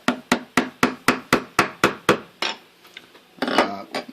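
Sharp wooden taps ring out in a quick, even rhythm of about ten close strikes, then a pause and a rougher scraping burst, as a skew chisel works a carved wooden skull relief.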